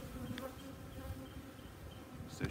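Honey bees buzz steadily over an open brood frame pulled from a hive, a continuous droning hum with a brief louder rustle near the end.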